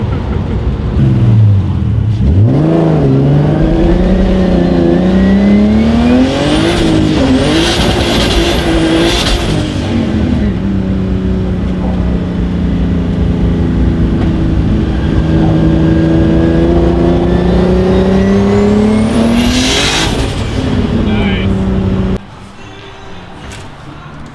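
A turbocharged BMW E36 on cold tires spins its wheels at the track. The engine revs loudly and rises and falls in pitch with a sustained roar, and tire noise carries under it.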